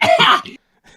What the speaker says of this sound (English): Like very loud cough